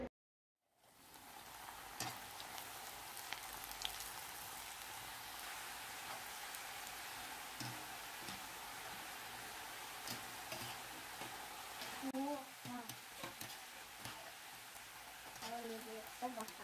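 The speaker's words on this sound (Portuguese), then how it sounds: "vamos levar para fritar com o óleo quente" Salgadinho snacks deep frying in hot oil, a steady dense crackling sizzle that runs throughout with occasional louder pops and bubbling near the end.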